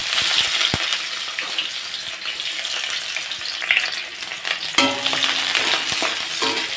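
Chopped onion hits hot oil in a wok already seasoned with black cumin (kalo jeere) tempering, giving a steady, loud, close sizzle and crackle that runs throughout with no talk, and a sharper burst partway through.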